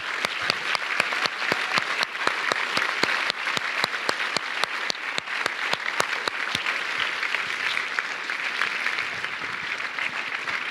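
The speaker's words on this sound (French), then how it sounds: "J'aimerais qu'on les applaudisse toutes et tous" A crowd applauds at the closing ceremony of the FFFH 2018 festival, with crisp individual claps over a dense wash of clapping that thins slightly toward the end.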